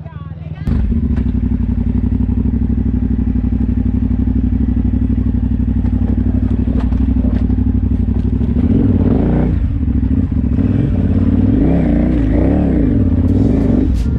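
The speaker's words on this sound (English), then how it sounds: "Big bikes putting in work." Big motorcycles rev hard and climb on the slickrock trail near Moab, a loud continuous engine roar with shifting pitch up close, and voices come through faintly over the engines.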